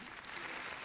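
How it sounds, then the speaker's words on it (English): Sustained audience applause at the close of a discussion session at an academic economics and finance conference, a steady dense clatter of many hands clapping at moderate volume throughout, with no talk over it. "Maybe we can give applause for all the speakers."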